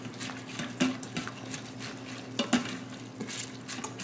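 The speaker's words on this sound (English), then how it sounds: "give it one more scrape on the bottom" Spoon scraping chicken fried rice from the sides and bottom of an Instant Pot, repeated close scraping and stirring strokes over a faint steady hum and soft sizzle.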